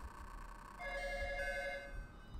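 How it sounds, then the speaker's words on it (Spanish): Telephone ringing in the Pokémon Red++ video game, a short electronic chiptune ring of stacked bright tones that rise and hold for about a second over a quiet low hum, with no talking. "Mientras suena el teléfono nuevamente"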